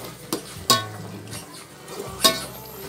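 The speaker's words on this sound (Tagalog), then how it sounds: "Tapos, haluin lang natin siya." Chicken stirred in a pan with two tablespoons of sugar, giving a few scraping, clattering stirs over a low background sizzle, close and moderately quiet with no talking.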